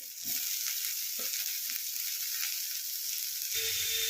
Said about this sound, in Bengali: এবার এদিকে আমি ব্রকলিগুলোকে একটু ছোট ছোট করে কেটে এর মধ্যে সটে করে নেব